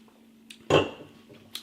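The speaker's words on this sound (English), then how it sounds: "I dropped the can on the floor." Beer can dropped onto a floor, a single sharp metallic clatter with a short rattling tail, preceded by faint small knocks in an otherwise quiet room.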